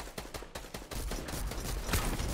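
Rapid bursts of video game gunfire crack out in quick succession, loud and dense with no talking.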